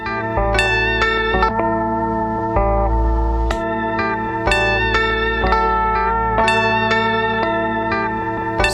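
A looped guitar phrase of plucked notes plays alongside a half-speed, lower-pitched copy of itself from a Loupé looper, the two layers blending with a warbly, echoing texture.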